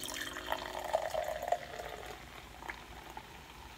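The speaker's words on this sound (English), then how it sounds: "Let's pour right on in." Golden Road Champango malt beverage pours from a can into a glass, producing a soft, steady fizzing and bubbling with a faint trickle, quiet and close throughout.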